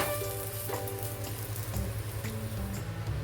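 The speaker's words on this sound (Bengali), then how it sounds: "এখন ওই প্যানের মধ্যে আমি আলুটা দিয়ে দিয়েছি সিদ্ধ করা আলুটা একটু লাল করে নেবো" Boiled potatoes browning in a hot pan give a steady, moderate sizzle of frying that runs without a break, with a low hum underneath and no talking.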